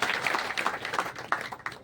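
An audience at a clan mahapanchayat gathering at Sarsaini fort in Morena claps for those who contributed to a memorial, a loose, uneven burst of hand claps with distinct individual strikes standing out, fairly close and lasting under two seconds.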